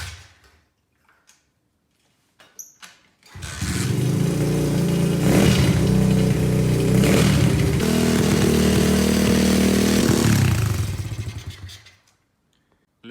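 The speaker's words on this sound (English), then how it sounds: "Less than 30 minutes and the bike is working." A cheap Chinese pit bike engine, just repaired, sputters with a few pops and then fires into a loud, raspy, continuous running roar with revs rising and falling for several seconds before cutting out.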